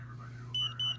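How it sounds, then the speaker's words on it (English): An insulin pod beeps after deactivation: two short, high electronic beeps in quick succession over a low steady hum, close and clear. "You'll hear 2 beeps."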